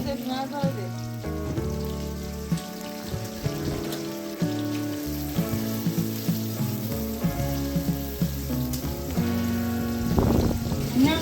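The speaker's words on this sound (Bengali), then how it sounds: "এখানে আমি প্রথমে একটু তেল এরপর হচ্ছে পাঁচফোড়ন দিয়ে নিচ্ছিলাম পেঁয়াজ দিচ্ছিলাম" Onions fry in hot oil with panch phoron, giving a continuous sizzle with light stirring, while music plays over it at a steady level throughout.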